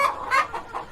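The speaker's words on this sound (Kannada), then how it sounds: "ಅದಾ ಕೋಳಿ." A chicken clucks, with three or four short, close clucks in quick succession.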